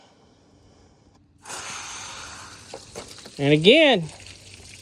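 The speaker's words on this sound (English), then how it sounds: "so we'll get some water to this thing." Water runs into a 1978/79 Evinrude 175hp outboard, a steady hiss that starts partway through, then a louder gurgling surge near the end, with brief speech over it.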